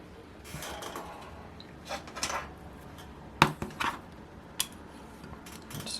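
Metal parts of an Enya R120 model engine being disassembled, with a push rod pulled out, give sparse close clicks and light metallic clinks and scrapes, with a few sharper taps amid quiet handling noise and no talk.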